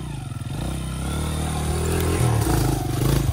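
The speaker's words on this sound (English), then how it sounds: "I think John should get his dirt bike and we see how far he can make it up" Dirt bike engine revving hard and holding high as the rider sets off climbing a dirt trail, a loud close buzzing drone rising in pitch with some clatter.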